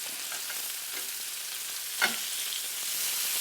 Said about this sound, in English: we're going to go ahead and practice our fried egg